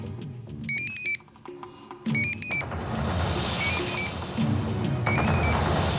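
An electronic phone ringtone chirps in short repeated bursts of bright, pitched tones, over background noise.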